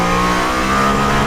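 A Mercedes-AMG One engine pulls hard on the Nürburgring in street mode, giving a loud, steady, high-pitched droning roar that fills the whole moment without pause.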